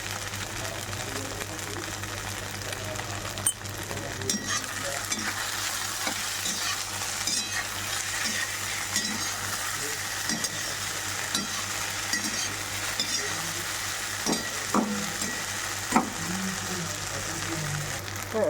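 Sabudana khichdi cooks in a pan with a constant soft sizzle, broken by occasional scraping knocks as it is stirred close by.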